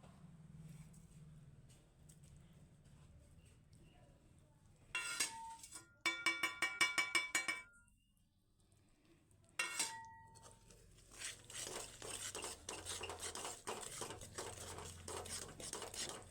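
Spice mixture stirred in a pot with jaggery while making homemade pickle: bursts of metallic clinking and scraping come in clustered runs, then give way to steady rustling and scraping, moderately close.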